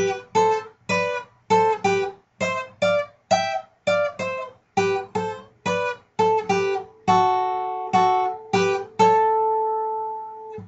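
An acoustic guitar plays a quick riff, plucked repeating notes in a steady rhythm, ending on a held ringing chord, close and clear with no talking.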